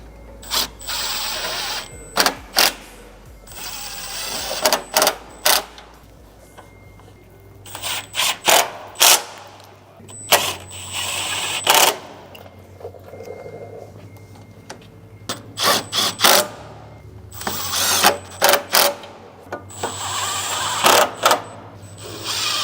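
A ratchet or power tool works the crash bar bolts on a motorcycle, four bolts per side, heard as repeated short bursts of mechanical clicking and whirring separated by brief pauses, close and fairly loud.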